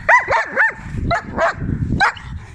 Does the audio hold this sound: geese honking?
no